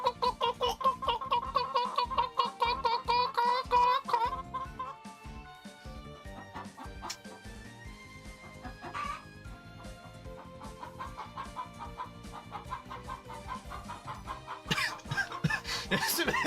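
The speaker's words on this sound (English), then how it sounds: "Chicken noises." Game audio from Ys: The Oath in Felghana with a rapid run of chicken clucking at the start, fading after a few seconds into quieter background music and occasional effects.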